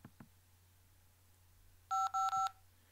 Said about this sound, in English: that beep twice because I pressed it twice because it's freezing up